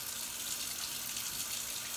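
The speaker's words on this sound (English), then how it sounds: "gonna take great care to water just into the Leca and not into the plant itself" Water pouring steadily into LECA clay pebbles in a semi-hydroponic plant pot during rinsing, a continuous bright hissing splash with even loudness, close by and alone.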